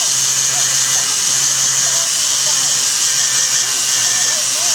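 A cylinder burr on a rotary tool grinds the inside of a ring, giving a steady high-pitched whine and hiss that carries on without a break from start to finish.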